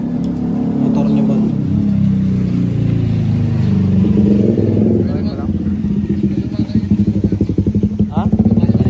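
Motorcycle engine running steadily nearby with rising revving texture toward the end, while people talk loudly over it.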